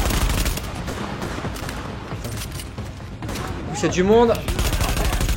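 Gunfire in The Division video game, bursts of shots under someone talking over the game, with a louder burst near the end.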